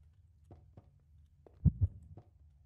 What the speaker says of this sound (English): I heard a heartbeat.